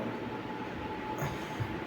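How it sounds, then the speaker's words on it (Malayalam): A train rumbles past nearby at Mavelikara with a steady low roar of wheels on track and a brief high metallic squeal partway through. "നിങ്ങളത് ഈ പോകുന്ന ട്രെയിൻ കണ്ടത്"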